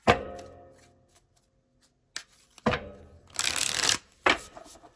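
Several bursts of tarot cards being shuffled, brisk riffling and rustling with soft thumps between, close up and fairly loud, with quiet gaps between bursts.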